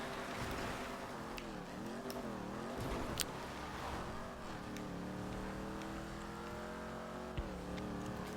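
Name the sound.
car driving in video game GTA 5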